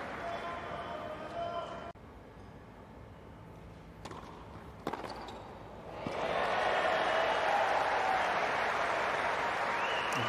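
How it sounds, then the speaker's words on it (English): A centre court crowd at a 2023 Adelaide International women's tennis match breaks into a loud, sustained cheer and applause that swells and holds to the end, with a commentator's voice talking over the earlier quieter stretch. "And brings a big cheer from the centre court crowd."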